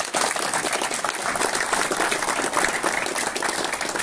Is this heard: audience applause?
yes